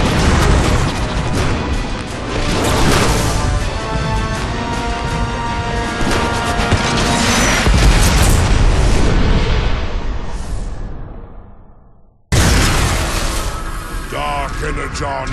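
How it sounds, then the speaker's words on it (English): A warship rams into a space station in a Transformers: War for Cybertron game cutscene, a loud sustained roaring crash and rumble with dense debris and explosion noise, cutting to silence before another burst of booming impacts. "Ram this warship straight into the heart of that station!"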